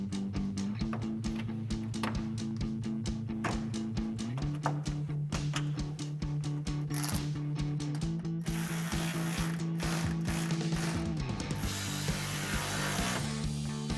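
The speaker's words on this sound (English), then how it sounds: "I'm going to be using a 10mm socket and a ratchet" A 10mm socket on a hand ratchet working bolts on a 2012-2015 Toyota Tacoma grille: a long, steady run of close, rapid ratchet clicks in repeated bursts, shifting pace as the bolt turns, no talking.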